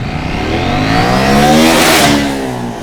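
A motorcycle launches hard from a standing start on a wet surface, its engine rising quickly in pitch as it accelerates past, loud and close, with a spray-like hiss that swells and fades.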